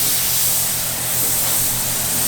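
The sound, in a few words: spray coat of primer on car body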